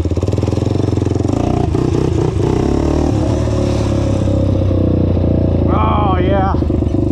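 A $500 Honda 400ex ATV with a noisy clapping engine revs hard while being ridden, its loud rough exhaust note rising and falling close by, with a rider's shouts and chatter over it.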